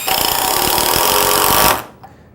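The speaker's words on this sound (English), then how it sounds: "Now let's look at the same tools driving screws into hard maple." An 18-volt impact driver drives a screw into hard maple, a loud rapid hammering rattle lasting under two seconds before stopping sharply.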